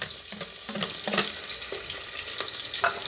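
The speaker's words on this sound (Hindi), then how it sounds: "उसके बाद इसमें जो मैंने प्याज काट रखी है ये डालते हैं" Chopped onions dropped into hot oil with cumin for arhar dal khichdi in a pressure cooker, giving a steady close sizzle and frying hiss with occasional stirring scrapes throughout.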